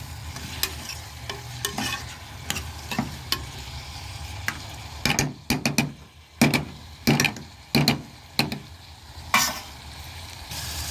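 Onions and spices fry in a pan while a utensil stirs them, giving a soft sizzle under a string of distinct scraping knocks that grow sharper and more regular toward the end.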